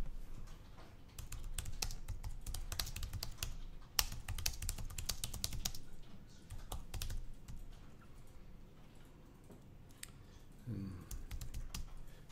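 Fingers type a name on a computer keyboard, a quiet, close series of quick key clicks coming in rapid bursts with brief pauses between them.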